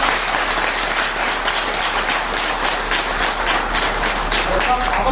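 Sustained, dense audience applause fills the whole stretch at a business success event, loud and even with no break in the clapping.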